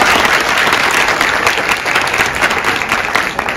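An audience applauds loudly for a student team at a school business plan competition. Dense, sustained clapping fills the room from start to end, with no break.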